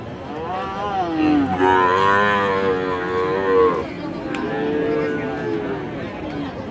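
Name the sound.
young cattle calves mooing at cattle market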